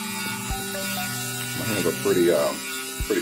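A small metal grinder sharpens teeth with a thin, buzzing whine that holds for a moment and then shifts, heard close up with a voice talking over it.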